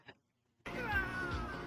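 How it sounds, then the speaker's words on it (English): A cat gives a loud, sustained meow that starts abruptly after a brief silence and holds steady, close by, during a gaming session. "The cat's attacking me."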